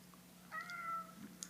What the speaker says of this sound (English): And I gotta let a cat out.